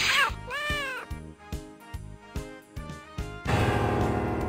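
Cat meowing in the PS1 fighting game JoJo's Bizarre Adventure during a smoked-meat bet scene, a couple of clear meows followed by punchy game sound effects and music stabs.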